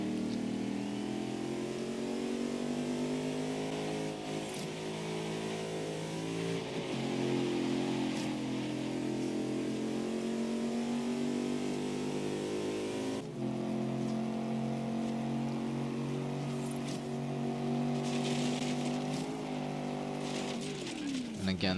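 Range Rover SUV engine in the driving game Forza Horizon 3, revving up and down through gear changes and corners in a steady loop, with someone commentating over it.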